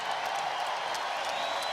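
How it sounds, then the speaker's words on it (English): A basketball arena crowd at an NJIT at West Virginia college game gives sustained, dense applause during a standing ovation. The clapping is steady and loud throughout. "the crowd here giving him a good round of applause, and now a standing ovation"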